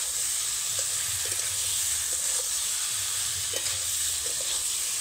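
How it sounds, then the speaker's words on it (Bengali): Fried potatoes and okra stir-fried with spice paste give a continuous even sizzle and hiss, with soft occasional stirring taps under it. "ভেজে রাখা আলু ভেন্ডির সঙ্গে মশলাটা 2 মিনিট মতন কষে নেব।"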